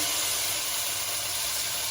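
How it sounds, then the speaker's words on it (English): Beef browns in a pot, giving a continuous, even sizzle with a broad hiss that stays steady and fairly loud throughout, with no voices. "here I have the beautiful sizzling, browning"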